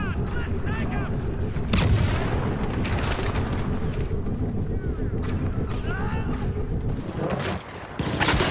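A grenade goes off in Star Wars Battlefront II amid steady battlefield noise, with booming blasts and laser fire over a continuous low roar.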